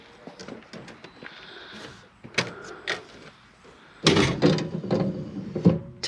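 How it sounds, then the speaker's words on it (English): The door of a 2016 Winnebago View motorhome is shut while its electric step motor retracts. A short mechanical whir comes first, followed by a louder clunk and rattle near the end, heard close up with no voices. "Shut the door."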